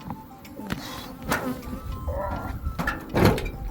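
Honey bees buzz around close by at an apiary, a wavering insect hum with occasional louder passes and some background clatter.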